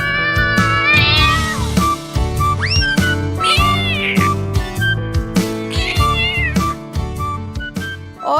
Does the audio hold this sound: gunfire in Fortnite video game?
no